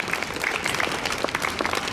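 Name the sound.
applause for the director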